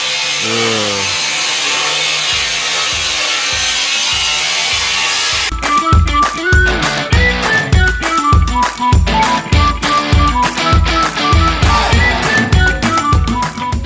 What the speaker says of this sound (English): You love the sound of a grinder in the morning.